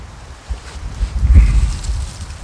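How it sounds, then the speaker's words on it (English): Outdoor wind buffets the microphone during a bushcraft bow drill friction fire attempt, a low rumbling gust that swells and peaks before easing off. "Ah! Frickin' wind!"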